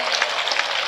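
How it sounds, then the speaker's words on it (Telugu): A church congregation at a pastors' meeting claps in a brief, dense burst of many hands. "చప్పట్లు కొట్టి ప్రభును గట్టిగా స్తుతిస్తాం."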